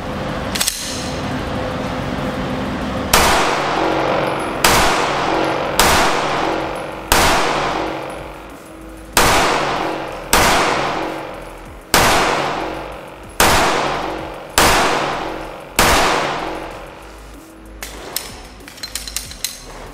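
Gunshots from a PFS-9 Polymer80 Glock 17 clone pistol, about a dozen sharp loud reports in an uneven, spaced-out series, each with a short decaying echo outdoors.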